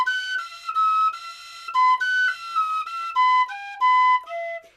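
A Bach Bourrée is played on a tin whistle using half-holing, a bright, close, breathy melody of short phrased notes with small gaps for breath, alone without talk.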